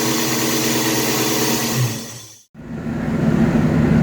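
A car with newly replaced steering rack bushings, original ones about 22 years old, on a test drive: steady road and engine noise fills the clip, dropping out for a moment midway before resuming just as loud, with no talking.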